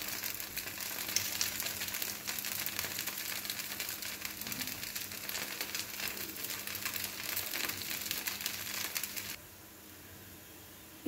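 Rava dosa sizzling steadily on a hot pan, a continuous crackling hiss that drops away abruptly near the end.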